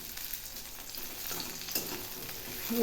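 Small onions sauté in a pan, giving a continuous close sizzle and frying hiss with a few light stirring scrapes, no talking.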